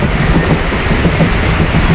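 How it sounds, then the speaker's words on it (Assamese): A local suburban train in Chennai rumbles along, a loud, steady roar with a rhythmic rail clatter heard from inside the carriage. "এতিয়া গৈ আছোঁ লোকেল ট্ৰেইনত"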